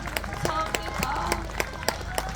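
An audience at a political rally claps in a brief burst, the scattered, uneven hand claps standing out over a murmuring hall.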